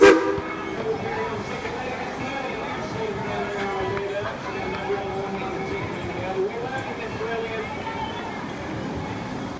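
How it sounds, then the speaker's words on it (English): Train passing at Dollywood during the Smoky Mountain Christmas season, a faint rumble and clatter with a short horn note near the start, under background voices. "Here comes the train."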